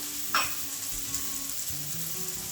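Onions and carrots stir-fry in a hot wok for shrimp fried rice, a steady close sizzle with a brief sharp hiss as the carrots go in, then continuous frying and faint stirring scrapes.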